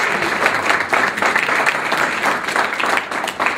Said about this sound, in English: let's give our speaker a big round of applause, Conor.